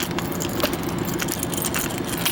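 A set of door and storage-compartment keys for a 2023 Cougar 2100RK travel trailer jangles continuously close by, with light metallic rattling over a low steady rumble.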